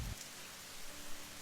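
Heavy rain falls as a steady, dense hiss that holds an even level through the whole short stretch, with no voices over it.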